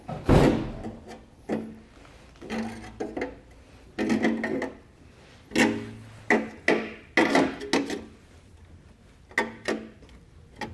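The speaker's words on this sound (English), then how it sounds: "So we're gonna grab a pair of pliers or channel locks. And just kind of bend this lip in." Metal clanks and scrapes as pliers or channel locks bend in a lip of sheet metal on a 2022 Audi SQ5 during a hidden trailer hitch installation, coming as a series of sharp, close knocks and creaks with pauses between.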